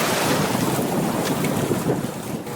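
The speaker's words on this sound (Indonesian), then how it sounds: "Saat ombak datang, kami harus berpegangan ke perahu." A sea ambulance boat crossing choppy Indian Ocean waves off Cilacap, past mangrove edges, with constant roaring wind buffeting the microphone and waves rushing and slapping against the hull throughout.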